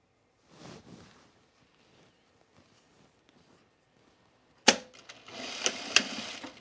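Pajama pant seams run through a sewing machine. A faint rustle comes first, then near silence, then a sharp clunk and a loud, steady mechanical whir of stitching in the last two seconds.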